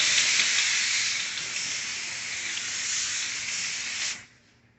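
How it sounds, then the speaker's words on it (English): A Dupray NEAT steam cleaner, used on a sofa, chairs and glass-top tables, lets out a loud, close, continuous steam hiss that cuts off abruptly near the end. "There, I will see the steam coming up."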